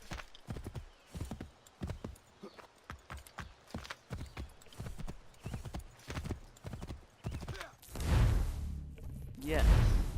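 Horse hooves clip-clopping in Assassin's Creed III Remastered, a quick steady gait with a whinny and heavy whooshing thumps near the end, under occasional speech.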